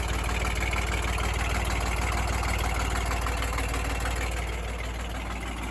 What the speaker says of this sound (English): it's an odd fire, so it runs rough at idle